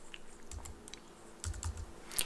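Quiet keystrokes on a Mac computer keyboard as a font name is typed into Microsoft Word, a few scattered clicks over a faint background hiss with a slightly louder tap at the end.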